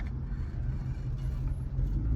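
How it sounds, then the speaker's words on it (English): A deep, steady V8 engine rumble from a pickup truck, low and continuous, heard from inside or close by with no talking. "It's just hear the sound of this V8."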